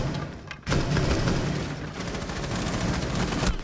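Rapid bursts of gunfire from a shooter video game rattle continuously after a brief pause, dense and loud automatic fire with heavy thumps, no voices.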